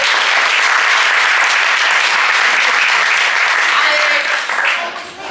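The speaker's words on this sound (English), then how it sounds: "Let's clap Alex back" Audience at an improv comedy show bursts into loud, dense applause that carries on steadily before beginning to thin out at the end.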